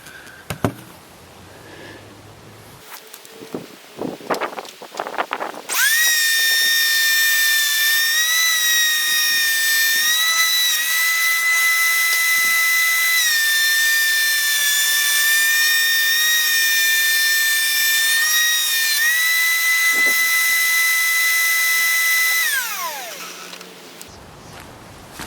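A thickness planer feeds a solid pine board for a Shaker-style door, starting after a few seconds of handling and knocks, then a loud, steady high whine with a cutting roar for about seventeen seconds before spinning down alone.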